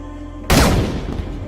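A single sharp sniper rifle shot in a war film, with an Iraqi general as the target; one loud, sudden crack that hits hard after a low steady hum, then rolls off into a long echoing decay.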